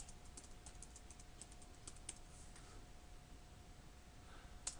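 Keys clatter on a computer keyboard as Cisco IOS commands are entered at a command-line interface, in quick irregular taps that sound faint and close, with a louder final key press.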